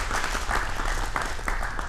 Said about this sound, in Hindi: नीतीश जी की हौसला अफजाई के लिए जोरदार तालियां एक बार हो जाए।